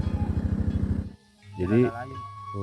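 A motorcycle riding uphill in a village revs with a steady rumbling pulse for about a second, then fades as a person starts talking.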